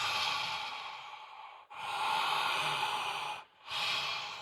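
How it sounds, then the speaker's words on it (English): Deep open-mouthed breaths, each a long broad rush of air through a wide-open mouth, two full breaths with a sharp pause between and a third beginning, close and fairly loud with no talking. "Now start taking full body breaths."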